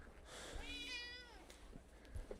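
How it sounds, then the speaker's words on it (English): A house cat lets out one clear, drawn-out meow close by, with faint thumps and room noise after it. "Sorry, the cat has a lot to say."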